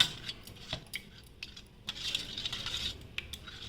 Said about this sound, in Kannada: ಹೆಸರುಬೇಳೆ ಮತ್ತು ತೊಗರಿಬೇಳೆ ಇದನ್ನು ಚೆನ್ನಾಗಿ ನೀವು ಒಂದು ಇದರೊಳಗಡೆ ಚೆನ್ನಾಗೆ ಸ್ಮ್ಯಾಶ್ ಮಾಡ್ಕೊಂಡ್ಬಿಡಿ